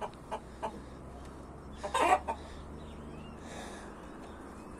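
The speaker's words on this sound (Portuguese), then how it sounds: "Aí, galera, as galinhas." Chickens on a farm give off scattered soft clucks, with a louder burst of squawking near the middle, over a steady low background hum.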